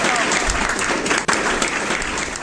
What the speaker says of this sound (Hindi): बजाओ एक बार 2 तालियां बजाओ।